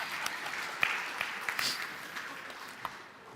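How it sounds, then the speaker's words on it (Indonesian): A church congregation claps in sustained applause during a worship service, fairly distant and reverberant, gradually tapering off toward the end. "Tepuk tangan dong."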